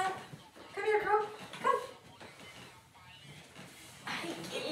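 A pet dog whimpers and yips in a few short, high, whining bursts with soft barks, close by, while a person talks in between.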